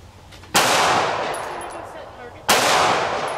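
Two loud, close gunshots at a shooting range, about two seconds apart, each a sharp crack followed by a long ringing decay, with no talk between them.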